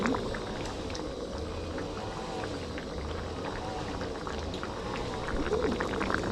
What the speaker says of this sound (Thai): เดือดนิดนึง